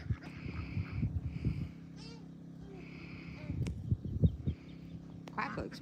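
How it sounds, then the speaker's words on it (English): Ducks quack outdoors in a few scattered nasal calls, nearby but not loud, while people talk over them. "Yeah, he's big. He's a big duck."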